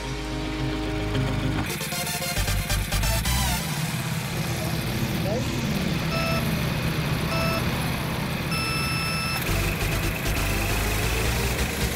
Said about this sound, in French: un kart à essence, à démarrage manuel, comme une tondeuse à gazon